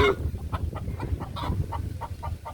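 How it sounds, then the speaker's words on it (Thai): Chickens cluck repeatedly in a farmyard, a steady series of short calls over a low rumbling background, fairly close and with no talking. "ไก่"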